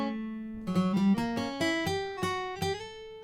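AEROBAND digital MIDI guitar playing an ascending scale, each plucked note starting crisp and ringing into the next at a steady pace, clear and close with no talking.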